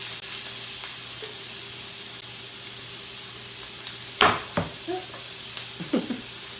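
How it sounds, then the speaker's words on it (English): Onions dropped into a hot pan of oil for a Bolognese sauce: a sudden sizzling burst, then short scrapes and knocks over a quiet, humming kitchen background. "All right, we're gonna put the onions in there."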